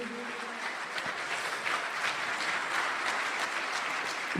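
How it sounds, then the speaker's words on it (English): An audience at a business convention in Dubai gives a steady round of applause, dense continuous clapping filling the whole stretch at moderate volume with no voices over it. "Please give yourselves a big round of applause."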